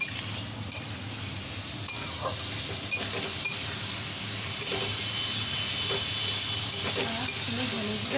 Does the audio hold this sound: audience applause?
no